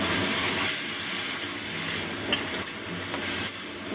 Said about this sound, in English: Now we use a cornstarch slurry. This is going to thicken up the gravy, the sauce.